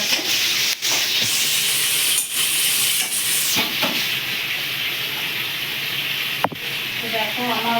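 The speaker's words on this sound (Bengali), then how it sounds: "তো ওই জন্য আমি হালকা একটু লালচে করে ভেজে নেবো এটাকে" Pointed gourd (potol) being fried in a pan for doi potol, with a loud, dense hissing sizzle throughout and a few brief clacks of stirring near the start and end.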